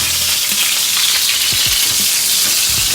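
A tuna steak sears in hot oil in a pan for a teriyaki sandwich, making a loud, dense, continuous sizzle heard up close, with a few low thumps as the pan shifts and no talk.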